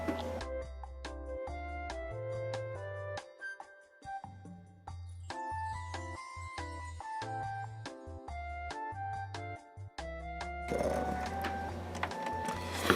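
An electric screwdriver tightens screws inside an Xbox One console, giving short whirring bursts of rising pitch one after another, near and moderately quiet, with brief pauses between screws.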